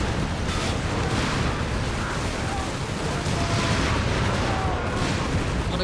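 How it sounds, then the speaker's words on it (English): Gunfire and grenade explosions from a Company of Heroes 3 battle between German and Allied forces: dense, steady rattle of small-arms fire with bursts and blasts running throughout, moderately loud. "A lot of grenades, a lot of firepower."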